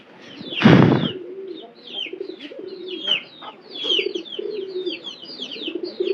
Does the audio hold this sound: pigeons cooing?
yes